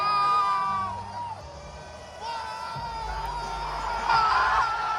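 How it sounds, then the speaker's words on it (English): A large WWE arena crowd roars and cheers, a sustained swelling din with shouts and whoops that rises louder toward the end. "The crowd reaction when they saw John Cena brought back his color Titantron over the black"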